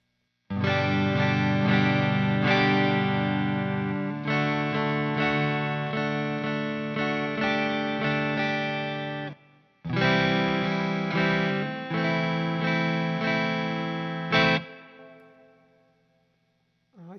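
Electric guitar plays sustained chords and ringing notes washed in reverb, with a brief pause before a second strummed passage that fades into a lingering tail.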